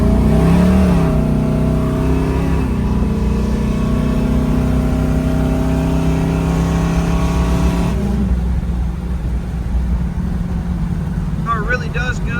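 Chevrolet Camaro RS SS 396 V8 with a four-speed overdrive transmission pulls hard through its gears, a loud, steady engine roar that rises and drops at each shift, with a voice talking over it.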